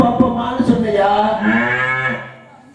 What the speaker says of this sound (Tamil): ஏன்டா பீச்சத்துக்கு என்ன மாடு கத்துது?